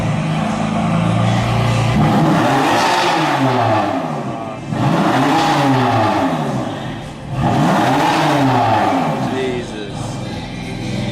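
Several BMW M3 cars rev their engines nearby in loud repeated surges that rise and fall in pitch, with people talking over the roar.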